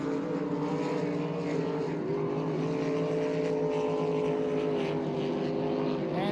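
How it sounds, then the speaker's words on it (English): A racing powerboat roars past the start-finish line on Lake Karapiro during the 2023 NZ National Powerboat Championship, a loud sustained engine drone with shifting pitch as it passes nearby. "Sundance Kid, Cody Watton, comes down past the start-finish line."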